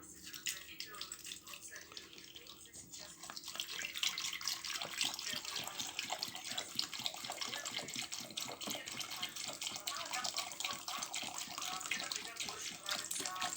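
Water runs steadily from a tap into a pot for making compote, a continuous splashing rush that grows fuller after the first few seconds.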